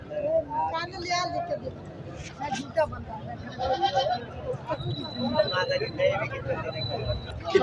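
Goats bleat repeatedly at a crowded goat market in Memon Goth, Karachi, where a nanny goat with her young kid is on show. Several nearby quavering bleats rise over a busy background of voices and crowd babble.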